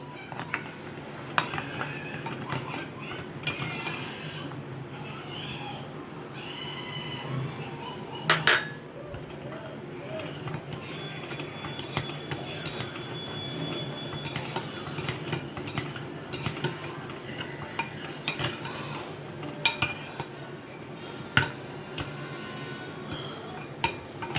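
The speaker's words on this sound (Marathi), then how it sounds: "दूध आपल्याला चांगलं असं थोडंसं हालून घ्यायचं आहे" A spoon stirs milk in a metal pan while mango kulfi is being made, giving soft repeated scraping and light clinks against the pan at an irregular rhythm over a low kitchen hum, with little talk.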